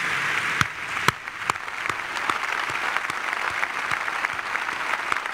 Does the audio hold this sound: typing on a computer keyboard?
no